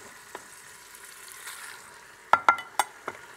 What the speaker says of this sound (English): I'm just going to give that a quick stir so it's coated in the paste